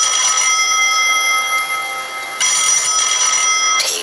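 A room telephone rings with a bright, sustained electronic trill that pulses in repeating bursts, loud and close, with no voices.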